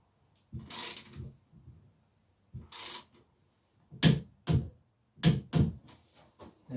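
Several sharp mechanical clicks in bursts from a torque wrench reaching 40 Nm on square taper bottom bracket bolts of a 1990s Marin mountain bike under restoration, close and crisp, with pauses between pulls and no talk.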